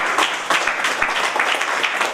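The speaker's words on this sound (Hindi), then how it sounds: "जोरदार तालियां सर के लिए" A crowd claps loudly and steadily at a lively business gathering, dense continuous applause filling the room with swells in intensity.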